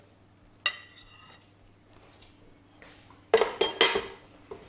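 Butter knobs being worked into hot mashed potato in a bowl, with a spoon clinking and scraping against the dish in a quiet opening stroke and then a louder cluster of knocks near the end.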